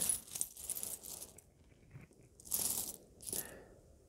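Coins drop onto a surface in a few quick metallic clinking bursts, close and fairly quiet, with short pauses between them.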